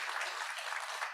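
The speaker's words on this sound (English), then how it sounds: "So let's give a round of applause to Norman for his keynote presentation." An audience applauds at the close of a keynote presentation at a symposium, a brief, steady wash of many hands clapping at moderate level with no voices over it.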